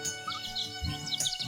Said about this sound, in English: Sparrows.